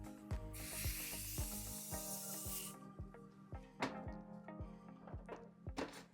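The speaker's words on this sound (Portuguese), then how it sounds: "spray de brilho." Hair shine spray hisses steadily for about two seconds onto hair being styled into waves, then cuts off, leaving soft, regular tapping and handling sounds nearby.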